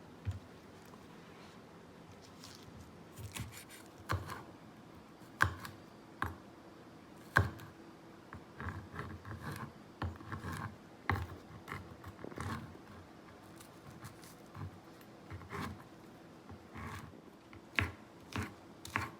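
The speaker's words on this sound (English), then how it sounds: "you'll just chop it in small enough pieces" A knife chops green onions on a cutting board with irregular clusters of quick taps and knocks, close by, stopping and starting with brief pauses.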